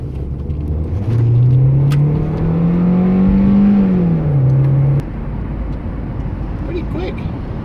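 A Nissan U13 car accelerates hard around a corner, its engine note rising loud and close for several seconds, then dropping back to a steady rumble as the revs fall away.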